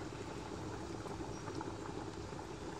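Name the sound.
malunggay, okra and milkfish head soup boiling while cooking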